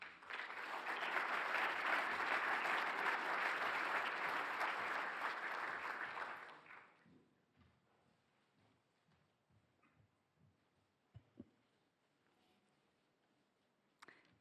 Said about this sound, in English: An applause for Signe.